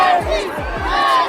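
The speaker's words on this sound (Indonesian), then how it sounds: "Sorak-sorai tak pernah berhenti." A large street crowd in Peru cheers and shouts continuously for Messi's arrival, a dense roar of many voices filling the whole moment.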